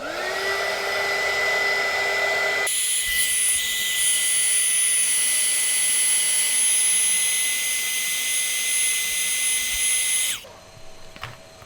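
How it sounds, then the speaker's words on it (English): A steady, loud FPV heat gun roars with a high whine for about eight seconds, heating a GoPro Hero 10 screen, then cuts off abruptly and leaves quiet handling sounds. "I'm going to use my little FPV heat gun."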